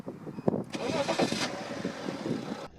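A BMW E91 330xd diesel engine cranks and catches, settling into a low, rough idle with a faint diesel clatter; a voice talks over it near the start.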